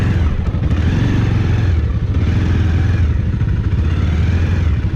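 Bajaj Pulsar motorcycle ridden through sand, its engine revving hard and close with a loud, continuous rasping drone and slight surges, with no talking.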